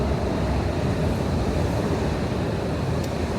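Subway train arriving at a station in DC, a low rumbling roar that rises and fills the space steadily, heard alone without voices.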